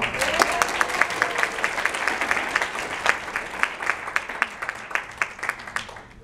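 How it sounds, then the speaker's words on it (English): An audience at a stand-up comedy show claps steadily, a crowd of hands applauding in a continuous patter that fades slightly toward the end. "please give a round of applause for our next volunteer comedian, Pat Mitchell."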